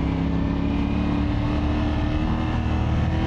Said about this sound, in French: La sonorité du moteur, la sonorité de l'échappement est spectaculaire.